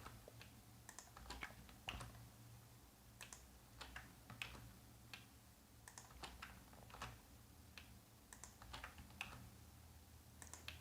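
Someone types code on a computer keyboard, light clicking keystrokes arriving in quick irregular bursts with short pauses, close and quiet over a low steady hum, no voices.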